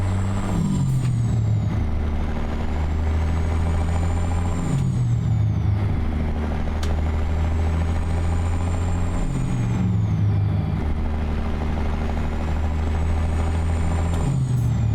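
A Caterpillar 3406B diesel truck engine mod drones loudly and steadily in American Truck Simulator, its pitch climbing and dropping repeatedly through several gear shifts, with a hiss of air brakes, no talking.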